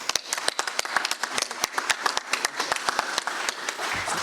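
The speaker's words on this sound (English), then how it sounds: "Friends and colleagues, please join me for a round of applause for Cape Air's Aaron Blinker." Applause from friends and colleagues gathered for Cape Air's inaugural flight event at ISP, heard as brisk, dense clapping from many hands throughout, with a crisp, close feel.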